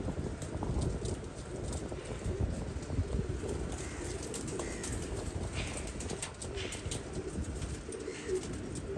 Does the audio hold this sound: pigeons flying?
yes